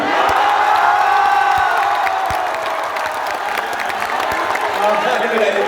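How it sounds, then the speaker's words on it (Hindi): An audience at a Hindi poetry gathering breaks into loud applause mixed with cheers and whoops, a sustained, dense crowd roar with voices shouting over the clapping. "जोरदार ताली है।"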